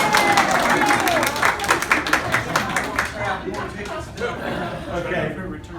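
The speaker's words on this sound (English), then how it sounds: "Everybody applaud." Guests at a Christmas dinner clap and cheer for a woman arriving at the table, a loose, lively burst of applause in a room, mixed with chatter and laughter that fades as the clapping dies down.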